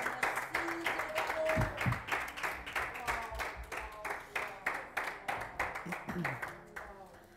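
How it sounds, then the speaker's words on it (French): A church congregation claps in unison, a quick, regular rhythm of sharp hand claps that fades gradually toward the end, with brief voices and a faint tone heard among the beats. "Une bonne main d'applaudissement à Jésus."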